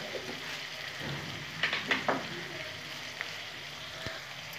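Chilies dropped into a pan of spices for an eggplant dish fry with a soft steady sizzle, a few louder spattering crackles near the start, then quieter frying.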